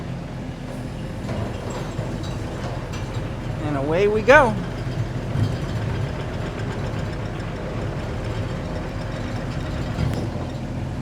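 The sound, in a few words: Kubota tractor driving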